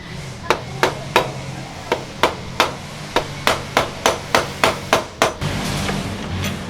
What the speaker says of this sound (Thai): ใช้ค้อนยาง